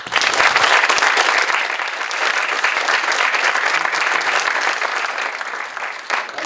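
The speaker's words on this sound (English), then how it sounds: "Let's give a round of applause." A panel discussion audience gives loud, dense, sustained applause lasting the whole stretch, easing slightly near the end.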